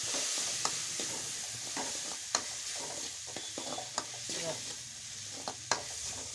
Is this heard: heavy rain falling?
no